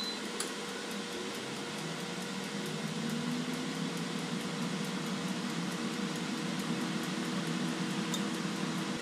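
An Ultenic air fryer runs with a steady, even fan whir and airflow hiss, moderately quiet and unbroken, with no talking.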